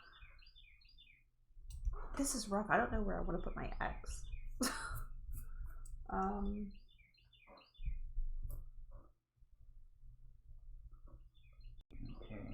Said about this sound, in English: That's actually the birds outside.